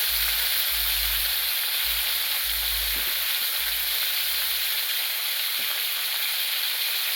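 Eggplant pieces salted and sautéing in a pan give a constant loud, close sizzle and hiss, with a low rumble from the stove and a soft stir or two.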